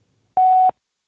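A single clean electronic beep, a steady tone lasting about a third of a second, loud and close, with silence before and after.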